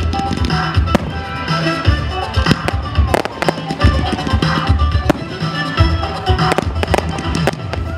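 A town fireworks display over Fontenay-le-Fleury on a Rio Olympic Games theme, with loud, dense crackles, pops and booming bursts overlapping continuously at close range.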